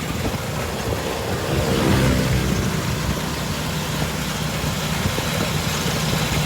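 A motorized saleng tricycle rolls along a road in Nan at about forty. Its engine drones steadily under a constant heavy rush of wind and road noise, loud and close, with no talking.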